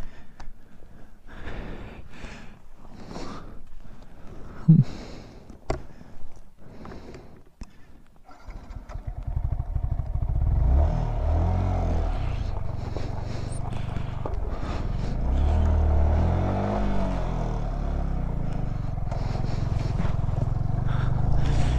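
A motorcycle crosses melting, refrozen ice on a Ladakh mountain road between Lato and Jispa as its rear tyre lifts and slips. Scattered knocks and clatter come first, then a close, steady engine rumble that rises and falls.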